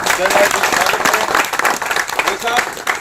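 Crowd applause at a BJP welcome event in Bhuwana honoring former state president Satish Poonia, vigorous sustained clapping throughout, loud and close with a busy crowd texture.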